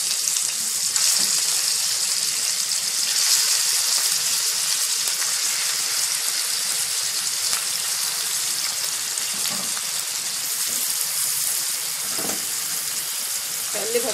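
Pieces of meat sizzling and frying steadily in hot ghee in a pot with mastic, a continuous close crackling hiss that stays even throughout with no talk.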